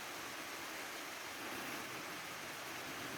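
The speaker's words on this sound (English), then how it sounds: "A little stream. It's pretty loud." A small park stream rushes loudly and continuously nearby, a steady broadband watery roar with no breaks or other sounds.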